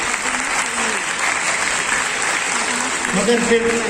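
Steady, dense applause from a poetry recital audience, filling the whole stretch with continuous clapping at a loud, even level.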